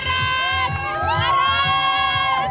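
Spectators cheer and shout encouragement for runners at a triathlon race in Kazan, a dense, loud crowd roar with children's high voices rising over it throughout.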